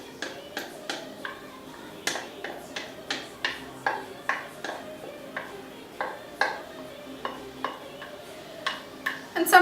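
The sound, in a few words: mixing flour dough with melted margarine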